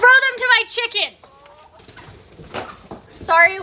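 Chickens cluck and squawk in a bright burst near the start and again at the end while being thrown carrots and celery, with quieter rustling and scattered bird calls between.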